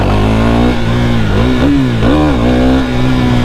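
A KTM Duke 390 engine revs hard and steady during a wheelie, a loud close buzzing drone with small dips and rises in pitch as the throttle shifts.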